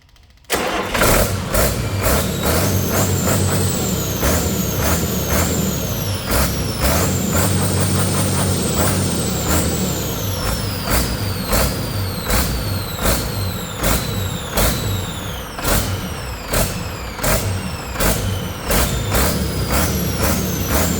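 An old Detroit 40 series turbo diesel generator engine cranks, catches and runs loud and close, a rough rhythmic diesel clatter with repeated sharp hissing and whining bursts throughout.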